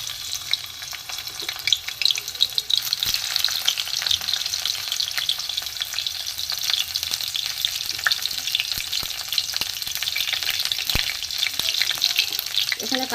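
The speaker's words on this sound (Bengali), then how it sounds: "এখানে আমি প্রথমে, তেলও গরম হয়ে গেছে, প্রথমে রসুন কুচিটা দিয়ে দেবো।" Chopped garlic fries in hot oil with a steady close crackling sizzle, dotted with sharp clicks and scrapes of stirring throughout.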